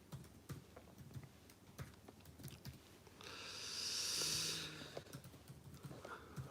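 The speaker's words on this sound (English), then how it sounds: "I'm typing on the keyboard," Keys clatter on a computer keyboard in quick, irregular bursts of light clicks, close to the microphone, with a soft whooshing swell rising and fading midway through.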